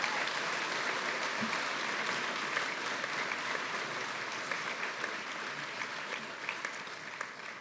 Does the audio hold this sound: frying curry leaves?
no